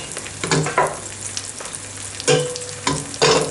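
Shaggy Parasol mushrooms and bacon frying in olive oil and butter in a pot, a steady close sizzle with occasional scraping stirs of a utensil, no voices.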